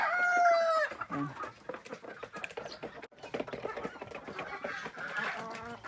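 Chickens on a small Filipino farm cluck and squawk in bursts, with a loud opening call followed by busy, overlapping nearby clucking that runs throughout.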